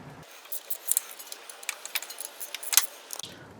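Ratchet or wrench working two 10 mm bolts off a Ford Escape belt tensioner, a quiet close run of quick metallic clicks and ticks over a few seconds, no talking.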